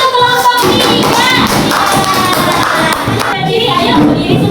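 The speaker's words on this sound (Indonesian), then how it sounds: "Oke, beri tepuk tangan untuk kelompok 3." A classroom of students claps for a student group, loud and close, with thumps, excited voices and shouting mixed into the clapping.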